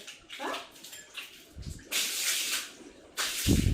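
A forceful jet of water hoses down a house porch in bursts, loud hissing spray surges that start and stop, with brief splashing and low thuds between them.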